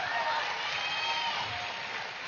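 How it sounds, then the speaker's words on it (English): An audience applauding after a dance performance at a live evening event, a steady dense wash of clapping that fills the whole moment without a break, no speech over it. "it's your applause which gives happiness to the artist immensely"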